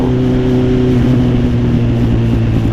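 A Kawasaki Z800 motorcycle revs hard through a light wheelie on a dusty road, its engine a loud, close, sustained droning growl with strong steady tones throughout.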